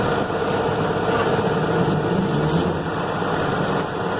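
A tractor engine runs steadily with its PTO engaged at slow speed during hay mowing, raking and baling work, a continuous loud drone with a broadband rumble that holds evenly throughout, with no voices.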